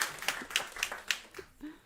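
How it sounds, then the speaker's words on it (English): Scattered clapping from a room audience at a panel event welcoming a moderator, soft and fairly rhythmic, fading as a voice begins at the end. "Give her a round of applause as well"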